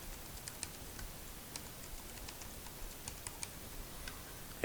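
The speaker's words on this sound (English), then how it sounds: "you're going to come down here and type a strong password" Computer keyboard keys tapped at a steady pace as a password is entered, producing soft, close, irregular clicks over a quiet hum with no talking.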